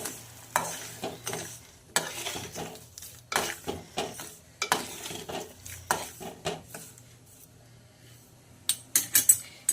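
Stirring sugar and food colour into pineapple sheera in a pan, a spoon scraping and tapping the metal in quick, repeated strokes, close and clear, with short pauses between bursts and no talking.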